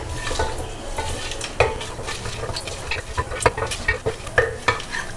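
Aachi biryani masala pack sautéed in ghee with whole spices over a low flame: a spoon stirs and scrapes the pan in quick irregular strokes above a soft, steady sizzle.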